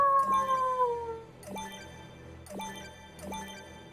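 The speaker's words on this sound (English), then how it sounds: "That howl is deafening, no doubt about it." Loud, piercing howling in Disney Infinity's Maleficent's Forest of Shadows: a long wavering cry, then three shorter howls repeating at roughly one-second intervals, standing alone without speech.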